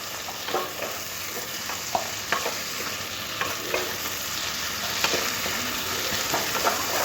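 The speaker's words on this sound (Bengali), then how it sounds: "টমেটোটাও খুব সুন্দর করে পেঁয়াজের সাথে ভেজে নেবো" Tomatoes and onions fry in a pan with steady sizzling while a spoon stirs them, giving repeated scraping strokes and light clicks at close range, with no voices.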